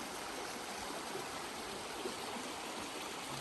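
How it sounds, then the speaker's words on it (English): A stream runs over rapids at Natural Bridge State Park in Virginia, giving a steady, even rush of water that stays soft and constant with no voices. "There's some flowing rapids."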